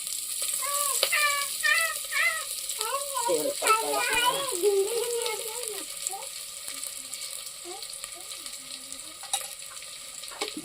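Oil sizzles as it is added to onions that have been sautéed in a pan, a steady faint hiss running beneath a voice talking nearby.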